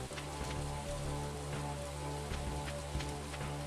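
Steady green rain falls in a video game, a soft continuous patter of drops under a low background hum, faint and unbroken throughout.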